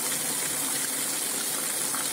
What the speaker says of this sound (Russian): 50 литров воды одним махом.